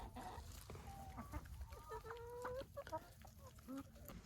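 A hen clucks in a barnyard, a string of short rising and falling clucks and squawks at moderate distance over a steady outdoor noise background, with no other clear sounds.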